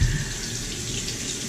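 Water poured onto a Nakayama whetstone while sharpening a Filarmonica straight razor, a close, steady splashing trickle with a slightly louder onset.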